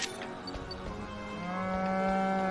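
A Pokémon in New Pokémon Snap lets out a low, cow-like moo that swells and holds steady toward the end, set against soft ambient game background.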